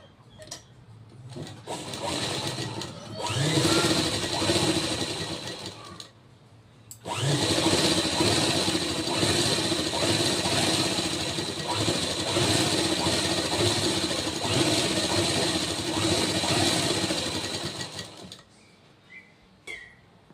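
A sewing machine stitches a folded fabric strip on a blouse sleeve, whirring loudly and steadily in two long bursts separated by a brief pause, with short quiet gaps at the start and end and no voices.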